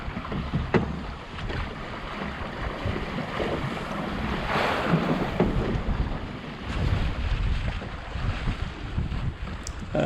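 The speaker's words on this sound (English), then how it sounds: "here we are sailing south on a nice swell, wind behind us" Waves wash and wind buffets the microphone aboard a Drascombe Lugger sailing south on a following swell off the northeast Scottish coast, a continuous close rushing of water and gusty wind noise with no talking.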